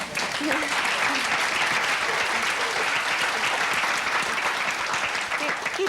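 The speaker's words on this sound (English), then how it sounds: "You don't need to clap." Steady, dense clapping from a large audience at a spiritual talk aboard a cruise ship, loud and continuous throughout, with a few voices faintly mixed in beneath the applause.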